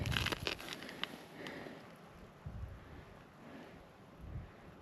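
Wind gusting outdoors while rock hunting in O'Brien Gulch in summertime, buffeting the microphone in low rumbling swells with a few brief handling knocks at the start, close and moderately loud.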